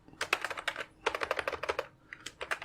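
Rapid keystrokes on a computer keyboard while entering month names into a CorelDRAW fees card design, in two bursts of quick, close, crisp taps separated by a brief pause, with no talking.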